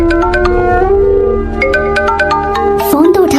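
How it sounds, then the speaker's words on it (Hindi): A phone ringtone plays loudly as a steady run of bright melodic beeps and tones, layered over dense music-like background, continuing for a few seconds. "फोन तो उठा ले"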